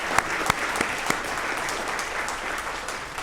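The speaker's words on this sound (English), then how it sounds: "let's thank these leaders with another round of applause for their contributions and time" Steady round of applause at a recognition dinner honoring community leaders, with a few sharp, close claps standing out at the start over the broad, even clapping of the crowd.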